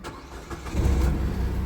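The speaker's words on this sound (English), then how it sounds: "Car starts" A 2015 Nissan Micra's engine cranks briefly and catches, rising into a close, steady idle rumble.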